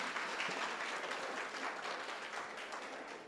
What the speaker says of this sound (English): let's all give a round of applause to the parents of the bride and groom.